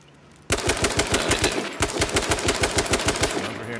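Automatic gunfire in the video game H1Z1, a sudden sustained burst of rapid, evenly spaced loud shots with a brief break, running nearly four seconds.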